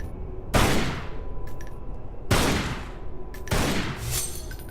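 Gunshots in the video game Tomb Raider Anniversary, three loud sharp blasts spaced roughly two seconds apart, each ringing out with a long decaying echo.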